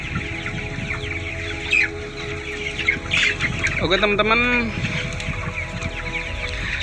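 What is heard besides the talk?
broiler chickens clucking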